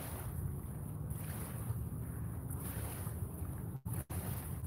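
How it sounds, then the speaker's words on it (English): Small waves lapping against the Ohio River bank at night, a steady low washing rumble with soft breezy hiss, even and close, broken by two brief dropouts near the end. "If it wasn't for these waves lapping on the river right now"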